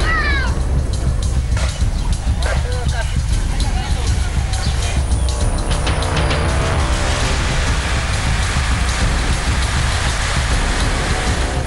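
Heavy rain pours down during a thunderstorm in Bihar, India, a dense, steady hiss that fills the whole stretch, with a few high, meow-like cries near the start.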